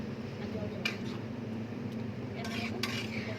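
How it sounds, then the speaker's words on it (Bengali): Boiled lentils being stirred with spices in a pot for tarka dal, heard as soft wet scraping and squishing with a few sharper clinks of spoon on metal over a steady low kitchen hum, with no talk. "মশলার সাথে ডালটাকে ভালো করে মিশিয়ে নেব।"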